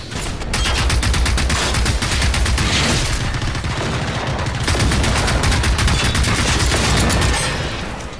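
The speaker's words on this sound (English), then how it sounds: "I'm trying to see what's been shooting at us." Sustained automatic gunfire in the Generation Zero video game, dense rapid bursts overlapping into a loud continuous barrage of shots and booms aimed at the player, near and alone without talk.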